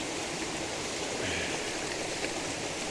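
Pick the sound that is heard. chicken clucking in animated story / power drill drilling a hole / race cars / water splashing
water splashing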